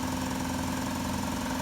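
Old Oldsmobile Cutlass or Buick Electra engine idling on a cold Christmas morning, a steady loud rumbling drone with a rough ticking, puffing exhaust leak running continuously throughout.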